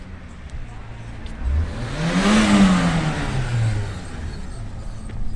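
A 1.0-litre car with a homemade turbo-style exhaust sound drives past, its engine note swelling from faint to loud and fading again over a few seconds.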